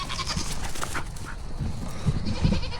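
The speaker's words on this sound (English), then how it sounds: "That's Cal the goat" Cal, a pet goat kept at a family home, bleats in a few short, close calls, with the loudest bursts near the end over a low rustling background.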